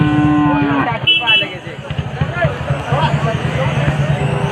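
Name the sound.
cows mooing at cattle market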